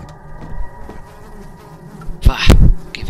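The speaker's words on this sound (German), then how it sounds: "Bah, geh weg, du Fliege." Fly buzzing in the horror game Amnesia, a close, droning insect whine that swells into a couple of loud passes near the end.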